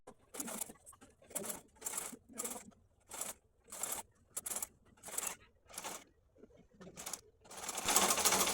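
A sewing machine stitches a seam in a lace blouse in a series of short, even bursts of rapid needle chatter separated by brief pauses, close and clear, ending in a longer louder run.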